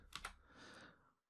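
A brief burst of typing on a keyboard, a few quick soft clicks followed by a short fading rustle, faint and close.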